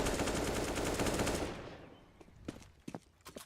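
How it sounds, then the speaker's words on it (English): Dense automatic gunfire rattles during a professional CS:GO match between G2 Esports and GODSENT on the Inferno map, around the Banana area, fading after a loud sustained burst into scattered single shots at a distance. "So Freddie B at the top of Banana is under fire"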